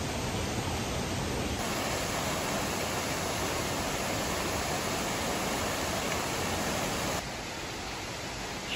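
Waterfall at Sızır in Sivas, with water pouring from rock and soil: a dense, steady roar of falling water, loud and close, unbroken throughout.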